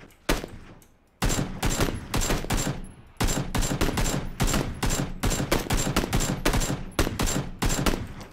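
Rapid bursts of automatic gunfire in a video game, loud and close, come in repeated volleys with brief gaps between them.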